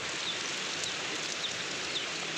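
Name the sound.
large hailstones falling with rain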